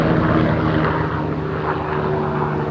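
A helicopter flies overhead outdoors on a summer day, giving a steady, continuous engine drone at moderate distance that holds without a break throughout.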